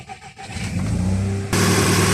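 A VW Jetta Mk5 with a 2.0 FSI engine starts up after an oil change, cranking briefly before catching and settling into a loud, steady high idle, heard up close.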